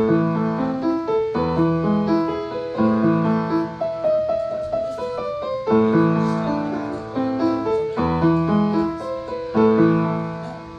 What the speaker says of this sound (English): let's get into part 1 of Beethoven for Elise.